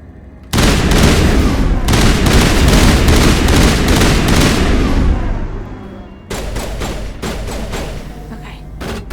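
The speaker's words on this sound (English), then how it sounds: "Who's shooting me?" Enemy gunfire aimed at the player in the Mass Effect video game: loud, sustained bursts of shooting that break off briefly, then resume, with voices faintly underneath.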